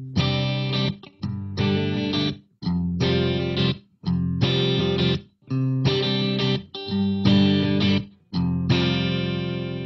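Electric guitar through a Line 6 POD X3 Live on a clean dual-tone patch: strummed chords in rhythmic bursts with brief gaps, full and bright, playing alone with the last chord ringing out.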